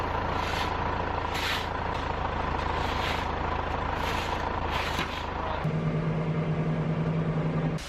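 A truck being loaded with soybeans on a farm, a loud, steady engine drone and rushing grain flow with a few periodic hissing bursts, then a shift to a lower, tonal rumble near the end.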